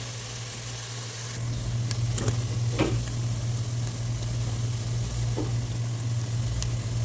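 Frying for a bottle gourd and potato gravy gives a dense, continuous hiss of hot oil under a constant low hum, with occasional faint scrapes of stirring.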